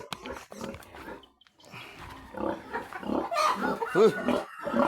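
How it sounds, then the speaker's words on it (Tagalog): Pigs grunting and snorting in short, irregular bursts at close range, with a few louder squeal-like calls near the end. "nakita natin yung ating mga alagang mga baboy"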